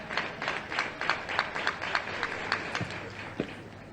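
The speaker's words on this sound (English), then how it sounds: "He's getting the crowd going here" A stadium crowd at an outdoor athletics championship claps in a steady rhythmic beat to urge on a long jumper, regular claps about three per second carrying across the venue, with some background noise.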